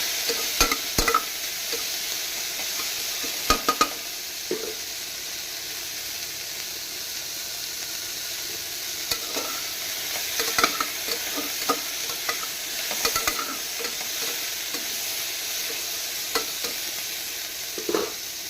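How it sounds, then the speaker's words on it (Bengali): Carrots and cabbage frying lightly in oil in a pan, a steady soft sizzle throughout with occasional stirring clatters and scrapes, close and alone with no talking. "কটা বাঁধাকপি দিয়ে দিলাম। সবজিগুলো হালকা একটু ভেজে নিলাম।"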